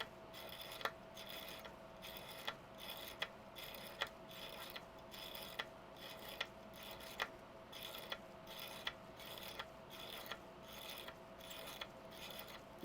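A pearl picker tool being tightened, giving a steady run of faint, evenly spaced ratcheting clicks over about thirteen seconds, close by and with nothing spoken.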